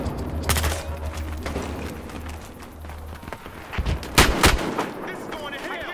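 Gunfire from a weapon in the video game Battlefield Hardline: loud sharp shots, a couple early and a dense burst near the end, over low in-game rumble and background noise.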